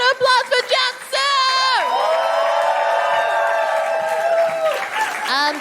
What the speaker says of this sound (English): Another round of applause for Cansu!